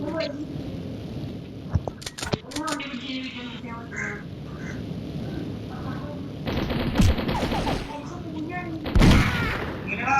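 Bursts of gunfire from a shooting video game, including sniper and rapid fire, crack out in short clusters over a quieter background, with a couple of louder shots near the end.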